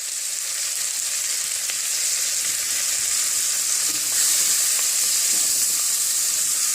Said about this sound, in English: to that you add your onions